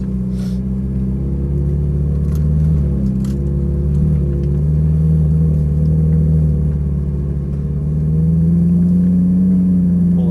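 A Ferrari 458 Italia engine on a track drones loudly and steadily, its pitch climbing and dipping through gear shifts, heard alone from inside the car.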